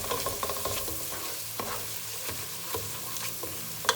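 Whole garam masala spices (bay leaf, cinnamon, cloves, black pepper) roasting in a pan for Lahori chana, giving a soft steady sizzle with scattered light scraping taps of stirring throughout.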